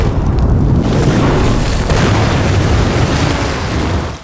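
A grenade detonates in an animated film, a loud, deep booming blast that fills the whole moment with a dense roar before easing off slightly at the end.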